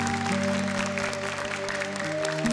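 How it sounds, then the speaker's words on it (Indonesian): Studio audience applause for seven contestants on a televised Quran memorisation competition stage, steady clapping under sustained musical tones. "Boleh tepuk tangan untuk ke-7 peserta kita."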